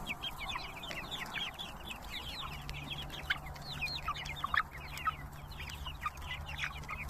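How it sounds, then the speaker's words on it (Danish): A flock of around seventy-five chickens clucks and chatters in a busy, overlapping chorus, with a low steady hum underneath, close by and heard without talk. "Kyllinger."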